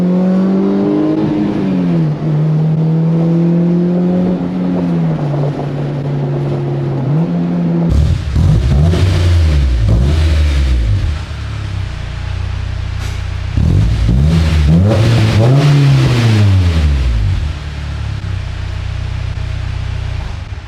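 A Honda S2K with an HKS exhaust is revved hard on a dyno. The engine note climbs and holds, then cuts off. It winds up again through repeated loud pulls that rise and fall, with harsh exhaust rasp close up.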